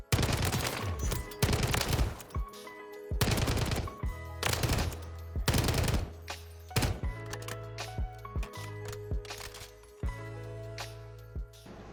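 STG assault rifle fire in Modern Warfare 3, bursts of rapid automatic shots that repeat in short runs with brief pauses, loud and close, with no talking.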